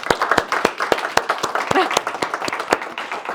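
Scattered applause from a small audience at a startup investment training session, with individual claps distinct and uneven, fading slightly toward the end, with some voices beneath.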